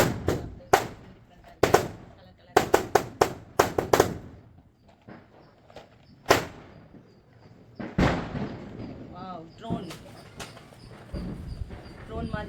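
Diwali sky shot firecrackers burst in a rapid series of sharp cracks, some in quick clusters, followed by crackling fizzing bursts overhead, loud and near, with voices briefly in between.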